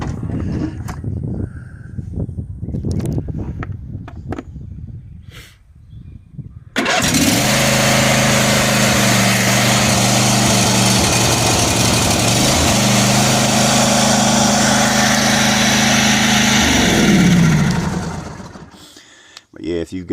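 A John Deere D140 lawn tractor engine cranks briefly, then catches and runs at a loud, steady idle for about ten seconds before shutting off. Quieter clicks and handling noises come before the start.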